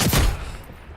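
Gunfire in a military shooter game: a loud burst of shots at the very start that quickly fades into a reverberating tail.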